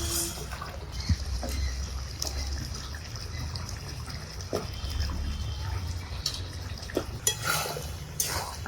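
Potatoes stirred into a pot of goat meat curry with its gravy: a soft, wet slosh and trickle with scattered light spoon clinks against the pot, steady and close, with no talking.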